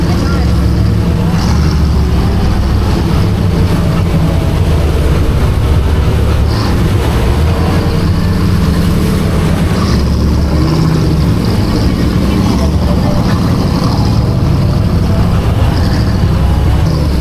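Truck engine running steadily throughout, a loud continuous low rumble close by with faint voices mixed in, during an off-road night ride.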